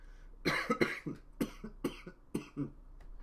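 A series of harsh, dry coughs triggered by smelling hookah tobacco, in quick bursts, roughly seven or eight of them spread over a few seconds, fairly close and moderately loud.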